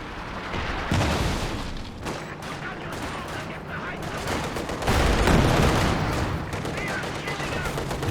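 Light machine gun fire rattles through a Company of Heroes 2 battle, with dense bursts of automatic shots and heavier booms layered into a continuous, loud wall of combat noise.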